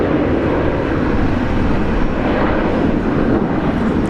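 At Brisbane Airport, a Qantas airliner in Retro Roo livery produces a steady, broad roar of jet engines at moderate distance, continuous and unbroken, with no talking.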